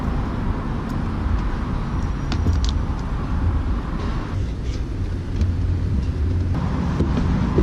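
BAC Mono single-seat sports car on the road, heard from inside or close by as a continuous loud engine drone with road rumble and wind buffeting, steady without clear gear changes.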